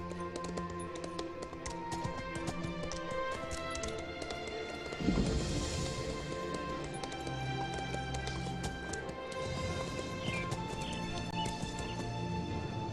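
Steady clip-clop of horse hooves at a run in Elder Scrolls Online, a continuous rhythmic patter under a dense game music and ambience bed.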